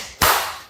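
A single sharp hand clap in a classroom clapping game, one crisp, fairly loud slap that decays quickly into the room, with no voices.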